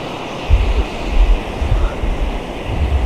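Sea waves wash ashore at the Penna river mouth beach near Mypadu, Nellore, a steady surf roar with low thumping surges, heavy wind buffeting the microphone throughout.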